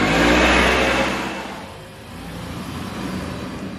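A car from The Looney Tunes Show cartoon pulls away, its engine revving loudly at first and then fading as it drives off, with a lighter engine rumble continuing afterward and no talking.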